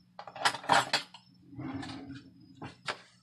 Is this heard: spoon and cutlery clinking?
yes